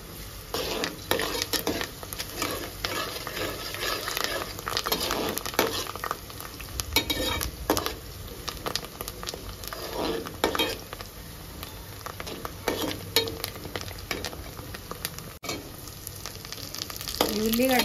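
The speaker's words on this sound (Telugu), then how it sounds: "ఉల్లిగడ్డ బాగా ఫ్రై కావాలి" Onions frying in hot oil with curry leaves for a methi mutton curry, a dense continuous sizzle with frequent stirring scrapes, close and steady throughout without speech.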